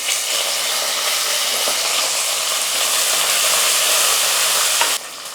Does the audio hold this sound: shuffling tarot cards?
no